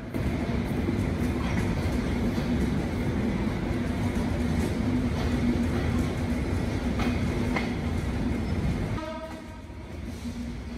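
Benapole Express passenger train running on its route from Dhaka via the Padma Bridge, a steady loud rumble with rail clatter and a few horn-like tones, the roar easing off near the end.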